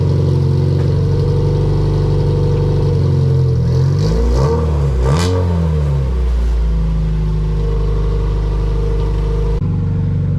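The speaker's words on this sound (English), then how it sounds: "Just that quick little rev" A Honda CRX with an LS-VTEC engine and a custom axle-back muffler idles loudly, then gives one quick, raspy rev that falls back to a steady idle.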